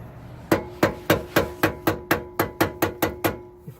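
A hammer strikes a tie rod on a Honda Odyssey during tie rod replacement, about a dozen sharp metallic blows at a steady, slightly quickening rhythm, close and loud, with no talk.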